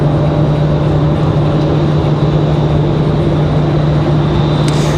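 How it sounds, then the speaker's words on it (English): A Republic Airways Embraer E175 arriving at Raleigh-Durham International Airport, heard as a loud, constant jet engine roar with a steady low hum, unbroken throughout. "Next arrival is going to be that Republic Airways 4596 coming in from Nashville, Tennessee."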